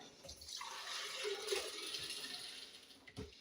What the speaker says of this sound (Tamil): தேவையான தண்ணி இதில் ஊற்றிடலாம்.